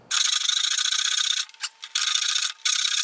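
A blade scrapes a groove into a metal hammer, harsh close rasping strokes repeated three times with brief pauses between them.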